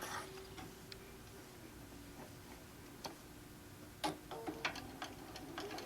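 Sewing machine stitching a quilt panel with a rod pocket, a soft ticking mechanical run with a few brief louder bursts of stitching near the end, quiet overall.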